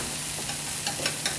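Sliced mushrooms stir-fried in a pan for Korean bibimguksu, a steady close sizzle with a few scraping stirs, no talking.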